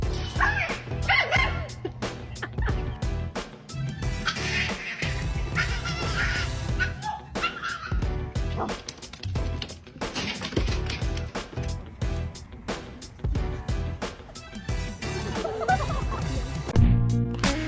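Several puppies yip and bark in sharp, rapid bursts, close by, with brief pauses and some background commotion, with kittens nearby.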